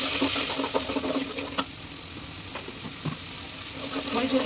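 Ginger garlic paste fries in a pan with a steady hissing sizzle, punctuated by a few light clicks and scrapes as it is stirred.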